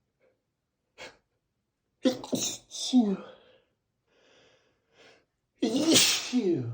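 During a mock job interview, someone sneezes several times in a row, each a sharp close burst with gasping breaths between, and a short exhaled word follows.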